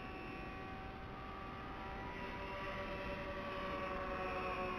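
A 44-inch electric KFm-4 wing RC plane flies overhead with a steady, continuous motor whine that swells slightly toward the end, heard alone with no talk.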